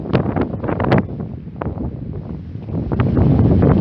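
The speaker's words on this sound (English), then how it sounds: "the wind kicks off when I'm trying to start talking about something" Outdoor wind buffets a microphone beside an old windmill site, gusting in rough, uneven bursts of low rumbling thuds that swell and ease, close and loud, with no speech.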